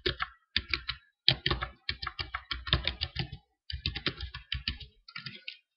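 A login and password being typed on a computer keyboard: quick, close bursts of crisp key clicks, separated by short pauses, with no talk.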